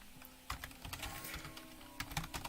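Quick, close keystrokes clatter on a computer keyboard in irregular bursts over a faint steady hum, with no voices.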